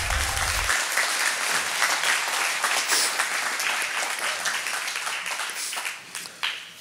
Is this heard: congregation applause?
yes